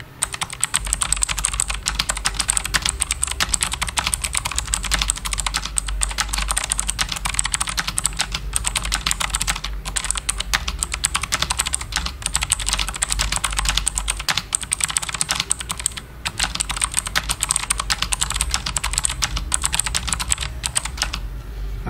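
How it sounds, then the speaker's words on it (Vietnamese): Rapid, continuous typing on a CK-Lazer mechanical keyboard with red LED lighting and waterproofing, whose optical switches are built like clicky blue switches. Each keystroke gives a loud, sharp click, close up and steady throughout with no talking. "Cái bàn phím này đang sử dụng là switch quang và nó có cấu tạo giống blue switch nên sẽ có tiếng click key."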